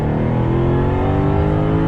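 The engine of a 2020 Jaguar F-Type R pulls under throttle, a loud, steady, smooth growl with rising harmonics heard up close from inside the car, with no speech.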